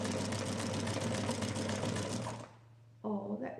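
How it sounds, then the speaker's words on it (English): A seamstress's sewing machine runs at a steady, rapid mechanical whir for a couple of seconds before stopping, followed by a brief moment of speech. "So we're going to just move the sewing machine. It's actually working."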